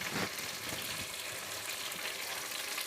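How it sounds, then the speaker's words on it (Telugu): Ginger garlic paste fries in a pan with a steady, close sizzle and a soft crackle. There is no talk, just a continuous frying hiss throughout. "కొంచెం అల్లం తెల్లుల్లి పేస్టు స్మెల్ పోయే వరకు వేయించుకుంటాం కదా"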